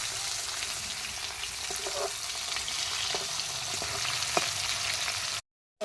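Fish pieces fry in hot oil in a wok, giving a steady close sizzle and crackle with a few faint stirring clinks, then dropping to silence just before the end.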